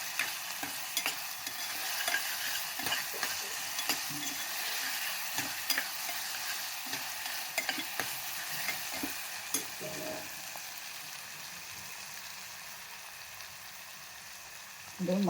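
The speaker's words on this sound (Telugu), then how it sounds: "అల్లం వెల్లుల్లి పేస్ట్ వాసన పచ్చివాసన పోయేంత వరకు వేయించుకోవాలి." Ginger-garlic paste fries in a pan with a steady soft sizzle, while a spoon stirs and scrapes in repeated light strokes at close range.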